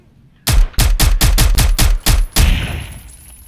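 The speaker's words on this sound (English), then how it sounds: "That was a trip wire, you shot." Rapid burst of about nine loud gunshots in a tight rhythm sets off a tripwire in the video game Zero Hour, followed by a brief blast and fading rumble; close and punchy, with no voice.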